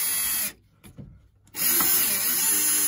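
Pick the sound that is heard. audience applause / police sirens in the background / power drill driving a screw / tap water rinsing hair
power drill driving a screw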